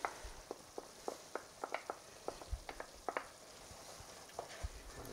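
Anchovies frying in a pan with pasta and broccoli: a steady low sizzle with scattered sharp pops and crackles at an irregular pace, fairly quiet and close.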